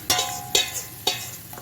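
Besan and yogurt batter mixed with spices is poured into a hot pan for kadhi, giving three short sizzling bursts about half a second apart, each fading quickly, close and fairly quiet.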